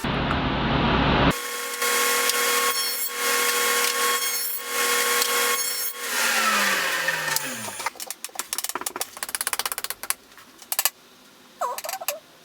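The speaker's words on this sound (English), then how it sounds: "so I'll run a 1/2 inch dado on the bottom, just sneaking up on that fit so that a 1/2 inch piece of plywood fits in there nicely" A saw cuts a 1/2 inch dado in plywood for a welding helmet box. Loud cutting noise gives way to a steady high whine, then the blade spins down. Close clattering and knocking from handling the work follow.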